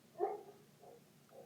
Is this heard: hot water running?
no